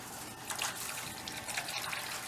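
A cup of water pours steadily into a pot while making Spanish rice, a continuous close splashing trickle lasting a couple of seconds, with no one speaking.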